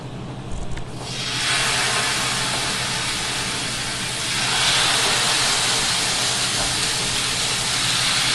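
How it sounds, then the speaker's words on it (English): Salmon hits a hot pan and sizzles for spicy salmon, a loud, steady hiss that rises sharply after a quiet second and holds through the rest, swelling a little midway, with no talking. "we're gonna throw the salmon on there, cook for about 2 to 3 minutes each side"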